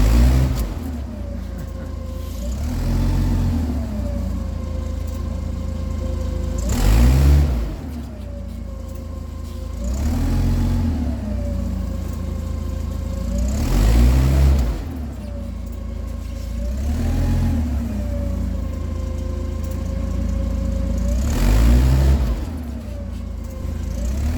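A giant forklift's engine drones steadily while shoving a Cadillac Fleetwood to straighten its bumper, revving up in repeated surges about every three to four seconds, loud and close with no talking.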